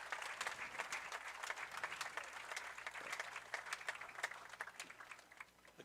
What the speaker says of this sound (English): You hear the applause